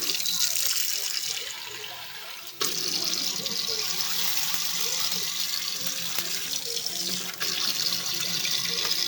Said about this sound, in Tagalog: Lagyan ko nga muna tubig.